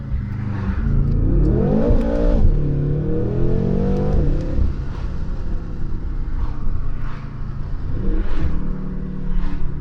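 BMW M5 Competition with a 4.4-litre twin-turbo engine accelerating hard in first gear with stability control off, loud continuous revving that climbs in pitch, drops briefly, then builds again, close and alone with no talk.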